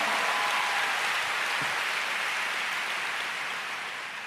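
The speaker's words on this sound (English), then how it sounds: "Let's give the most high God a big clap." A church congregation applauds praise to God with a dense, steady wash of clapping that fills the whole moment and fades slightly toward the end, with no voices standing out.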